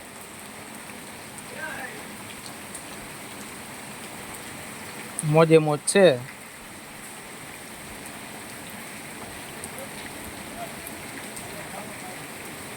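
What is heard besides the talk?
monsoon rain falling in Gujarat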